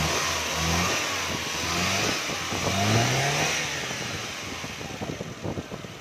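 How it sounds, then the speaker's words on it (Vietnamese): A 2005 Mitsubishi Jolie's engine revs in a few quick blips over a smooth idle, close by, then settles back to a low steady running note without talk. "xe này nổ siêu êm luôn"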